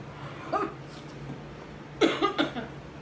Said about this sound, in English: That cough though.